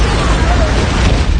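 Loud, dense rumbling blast in a film scene that throws two assassins, White Death and Ladybug, back into a train; sustained broadband roar lasting the whole moment with faint voices underneath.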